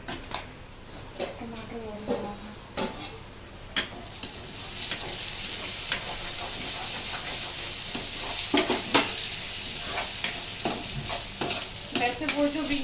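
Tomatoes stir-fried in a pan in a home kitchen, a steady sizzle under repeated scraping stirs of a spoon against the pan, close and continuous, with soft talk in the background.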